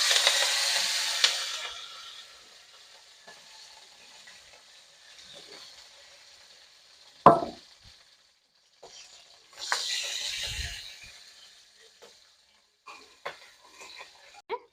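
Small crabs drop into hot mustard oil in a wok, giving a loud hissing sizzle that fades to a low crackle, followed by a sharp clatter and another burst of frying hiss.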